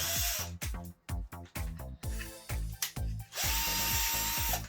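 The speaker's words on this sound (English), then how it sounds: "we'll get the drill on it" A power drill whirs in a series of short bursts while working on an RC car shock, revving up and stopping repeatedly, then runs for one longer sustained spin at the end.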